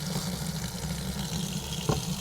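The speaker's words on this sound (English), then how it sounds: "Turn your faucet on hot water" Hot water runs from a faucet in a steady, even stream, with a brief clatter near the end.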